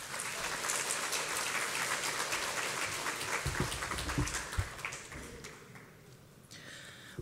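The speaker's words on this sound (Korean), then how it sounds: "우리 나오실 때 박수로 환영하겠습니다." A church congregation at a Wednesday worship service applauds to welcome the pastor to the front, a steady, somewhat distant roll of many hands lasting several seconds before easing off.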